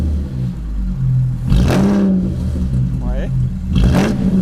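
A tuned BMW 335i with a forged engine and hybrid turbo revs up from idle toward 2000 rpm, a deep close engine drone swelling in two pushes under a voice.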